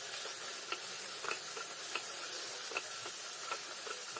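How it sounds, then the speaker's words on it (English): Tomato frying in a pan with turmeric powder and soup cubes, a steady low sizzle broken by sharp clicks and taps of a utensil stirring at irregular intervals, close and fairly quiet. "Fry the tomato well."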